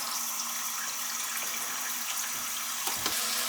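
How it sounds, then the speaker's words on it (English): Tap water runs steadily into a container being filled to wash apples, a constant close hiss and splash with a faint hum beneath and a brief change in the flow near the end. "Going to fill this up with some water."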